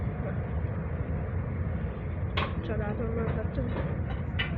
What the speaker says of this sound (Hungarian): Tényleg srácok, vonaton vagyok.